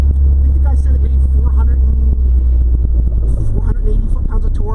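A 1992 Laser AWD with a 2.3-litre engine rumbles loud and close, its revs held steady and low throughout, while voices talk over the engine noise.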